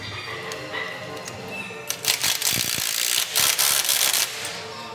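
A ratchet tightens suspension lift kit bolts on a Jeep JL, with a 3.5-inch Rough Country kit, giving close bursts of rapid clicking after a quieter stretch of rustling workshop noise.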